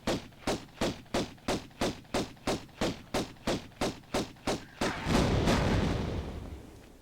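Rapid, evenly spaced heavy gunshots in Tomb Raider I, about fourteen in a row, then a louder rumbling blast that slowly fades out.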